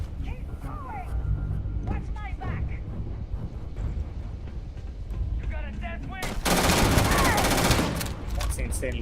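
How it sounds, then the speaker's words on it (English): Rapid gunfire rings out in the Starfield video game, with rumbling game noise and chatter at first, then a loud, dense burst of fast firing near the end that cuts off abruptly. "That's insanely fast firing"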